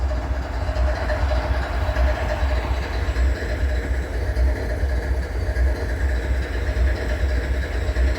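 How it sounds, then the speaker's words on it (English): An ES40DC switcher locomotive engine rumbles steadily at idle, a loud continuous diesel drone with faint rattling, heard without talk. "ES40DC is the switcher."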